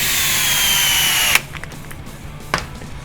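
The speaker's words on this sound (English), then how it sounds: "Don't want to run those in all the way with the drill." A power drill whines loudly, driving steel screws into the C block of a Tekno NB48 2.1 RC buggy, then stops abruptly after about a second and a half, followed by quiet handling clicks and one brief tap.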